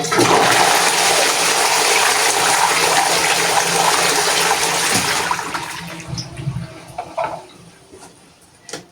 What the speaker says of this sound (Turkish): Ve sifona basıyorum.